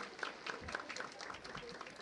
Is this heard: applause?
yes